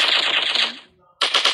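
Rapid automatic gunfire from the mobile shooter game Cover Strike, loud bursts of close shots, a brief pause, then another burst.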